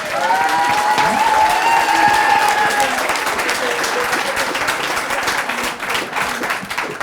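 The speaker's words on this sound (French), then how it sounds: "vous pouvez l'applaudir, s'il vous plaît" Audience at an oyster-opening competition applauding steadily, dense clapping from a crowd with some whistles and voices mixed in, fading slightly toward the end.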